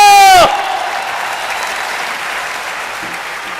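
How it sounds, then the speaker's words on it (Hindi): A stadium crowd at a Hindi comedy poetry gathering breaks into loud, sustained applause for the poet Surendra Dubey. It starts abruptly right after a short musical sting, then settles into a dense, even roar of clapping. "एक बार उठ जाए स्टेडियम जोरदार तालियों के साथ"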